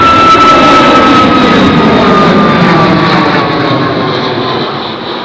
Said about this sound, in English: As another Alaska Airlines takes off.